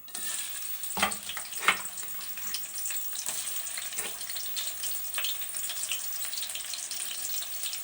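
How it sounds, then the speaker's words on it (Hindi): Sliced onions drop into hot oil and set off a continuous crackling sizzle, with a few louder bursts near the start as they land, close and steady with no voices. "ऑयल जो है गर्म हो चुका है। अब हम इसमें प्याज ऐड कर देते हैं।"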